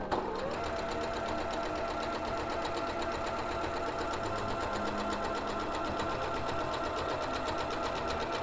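A sewing machine topstitches jersey knit fabric with lowered presser-foot pressure, a steady, fast mechanical whir and rapid needle chatter running continuously and close, with no talk over it.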